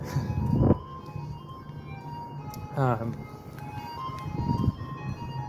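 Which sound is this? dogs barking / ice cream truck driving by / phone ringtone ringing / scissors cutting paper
ice cream truck driving by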